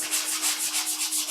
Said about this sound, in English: You want to keep on sanding it to make sure everything